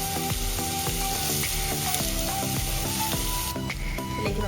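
Crushed shallots and curry leaves sizzle steadily in hot oil, a dense crackling hiss with rhythmic stirring clicks and scrapes from the pan, close and continuous throughout.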